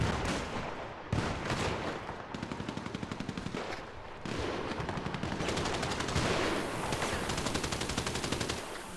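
Gunfire in a GTA roleplay game during an LSPD hostage situation: rapid bursts of automatic shots crackle in quick rhythmic volleys with short pauses between them, fairly distant and moderately quiet, and no talking.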